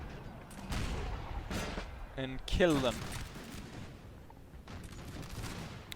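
Artillery in Napoleon: Total War fires canister shot, a few sharp booming blasts clustered mid-clip amid distant battle gunfire, with someone speaking over the action.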